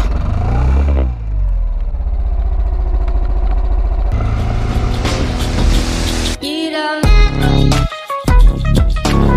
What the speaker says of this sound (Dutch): Die krijgt de motor niet aan.